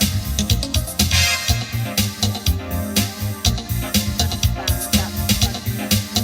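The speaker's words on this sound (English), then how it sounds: "The seventh chord sounds like this." A seventh chord played on a Roland VA-76 arranger workstation, backed by its full auto-accompaniment style with steady drums and bass, loud and continuous with no talking.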